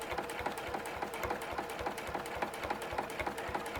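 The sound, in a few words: sewing machine stitching a quilt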